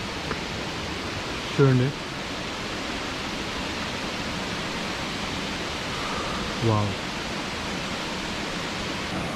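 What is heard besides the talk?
Vibhuthi waterfall flowing, Gokarna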